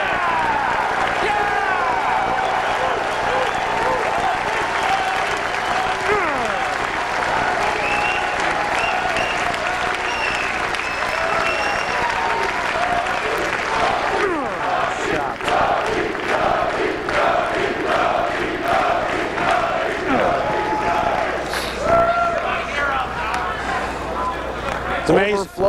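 An overflow crowd at Siena College applauds and cheers after a strike at the 2002 Empire State Open bowling event, with sustained loud clapping throughout and a commentator talking over it.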